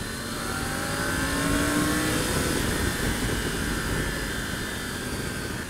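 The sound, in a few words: Triumph Tiger 900 GT Pro motorcycle engine pulling in fourth gear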